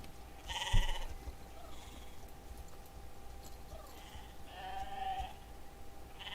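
A sheep bleats in the Star Stable Online video game, with one short call near the start and a longer bleat a few seconds later over a steady ambient background.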